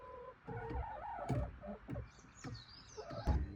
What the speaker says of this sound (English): He's an absolutely stunning rooster